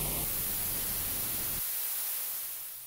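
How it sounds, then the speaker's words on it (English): Static-like broadband hiss added by the Time Machine audio plugin from Safari Pedals, a steady dense wash of noise that shifts character partway through and fades slightly at the end, heard alone. "Adding a ton of noise into the circuit."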